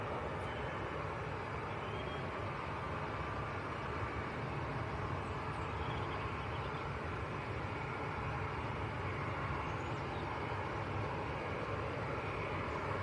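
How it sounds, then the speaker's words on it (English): A Jet2 airliner landing at Manchester Airport, its engines a distant, steady broadband roar holding evenly throughout. "please get the Jet 2 landing if possible"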